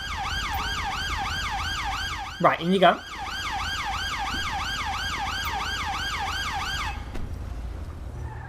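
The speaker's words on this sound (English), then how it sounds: "That siren's also slightly annoying." A police car siren in GTA V wails in fast, regular rising and falling sweeps and cuts off near the end, with a short vocal sound partway through and someone speaking briefly over it.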